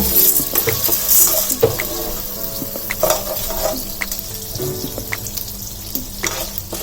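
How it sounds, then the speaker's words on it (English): Corn kernels frying in melted butter in a pan over a medium flame for popcorn, a steady bubbling sizzle broken by scrapes and clicks of stirring, close and fairly loud, no speech. "Keep this on a medium flame and I'm going to fry the corn."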